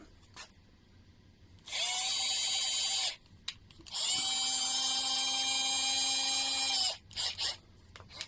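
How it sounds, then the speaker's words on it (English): A power drill bores hinge holes in a kitchen door in two sustained high-pitched whining bursts, the second longer, separated by short pauses and brief spin-ups. "It comes with a drill bit."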